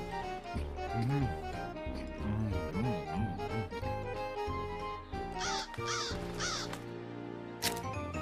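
Cartoon crow cawing from a Happy Tree Friends episode, repeated harsh caws over a busy music score, fairly loud and close throughout.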